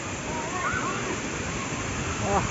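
Rani Duduma waterfall in Koraput roars as a steady broadband rush of falling water, loud and continuous throughout, with faint voices briefly audible over it.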